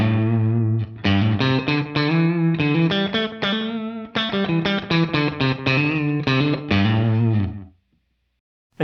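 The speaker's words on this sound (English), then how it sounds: "Here's a short slapback style delay." Distorted electric guitar through a Moonstruck analog delay pedal set to a short slapback delay: choppy picked notes and chords with tight doubled echoes, loud and close, stopping into silence at the end.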